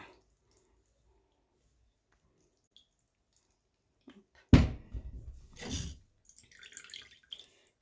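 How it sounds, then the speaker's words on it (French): Blended ginger juice pouring through a sieve: a short, close burst of wet dripping and splashing after a near-silent start, then a few faint trickles. "Le gingembre, donc je le passe au passoire, hop, pour récupérer juste le jus."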